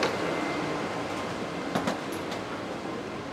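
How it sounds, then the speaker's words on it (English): Continuous rumbling hiss of an express train in Taiwan in motion, heard from inside a carriage, with faint rattles and squeaks over the steady roar. "purple train, express train"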